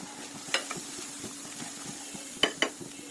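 Red chili powder, cumin powder, roast spice mix and tomato sauce stirred together in a pan, a soft low sizzle under a few sharp metallic clinks of the spoon against the pan, close up with no voices.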